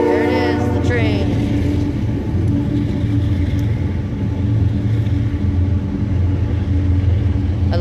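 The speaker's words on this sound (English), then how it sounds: "There it is, the train." A train passes nearby with a loud, steady rumble and low mechanical drone lasting throughout, and a brief rising horn-like tone near the start.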